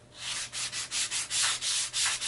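A 220-grit sanding block scrubs back and forth across foam helmet lining in quick, regular strokes, a dry rasping hiss close by with brief gaps between passes.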